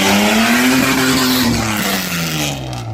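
Drag racing cars on slick tires roar loudly down the strip, a close, sustained engine howl whose pitch climbs steadily as they accelerate, with tire noise and no talking.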